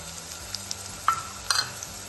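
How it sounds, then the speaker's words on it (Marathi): Masala fries and sizzles in a pan while a spoon stirs it steadily, and green peas drop in with a soft thud for a home-made green pulao. "मसाला छान परतत आहे"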